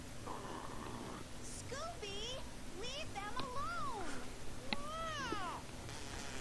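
Cats meow repeatedly in the animated film Scooby Doo on Zombie Island, a series of rising and falling yowls over a steady background hum.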